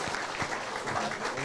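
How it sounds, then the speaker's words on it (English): A roundtable audience gives a quick round of applause for the evening's sponsors, a brief, dense burst of clapping filling the room. "For those sponsors, just a quick round of applause."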